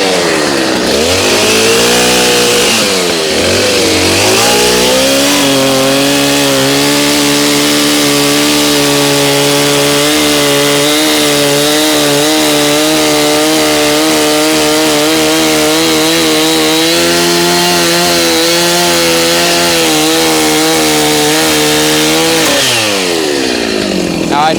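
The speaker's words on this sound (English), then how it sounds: "Fan favorite, chainsaw time." A chainsaw cuts through carpet and plywood covering the tank of a junk boat, its engine revving up and then holding a loud, steady buzzing roar close by for over twenty seconds before winding down.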